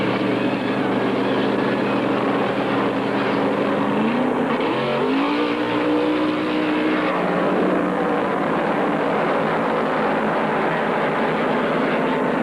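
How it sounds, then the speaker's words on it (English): A 1974 Purolator Mercury NASCAR Winston Cup stock car roars at full throttle during the Carolina 500, a loud continuous engine drone with another car's pitch sweeping past midway over steady race-track din. "He has that Purolator Mercury honking with the throttle on the floor and whistling Dixie"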